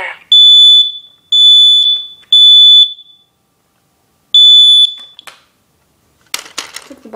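A Kidde NightHawk smoke detector alarm sounds in four loud, piercing tonal blasts of about half a second each, separated by short pauses, followed by a brief clatter of handling noise.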